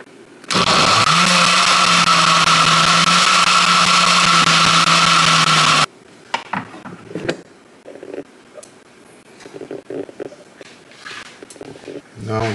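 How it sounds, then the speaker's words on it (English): A blender runs loud and steady for about five seconds, whirring through cucumber, apple and ginger in pineapple-peel water, then cuts out abruptly, followed by clattering and a voice talking nearby. "Now we're gonna blend."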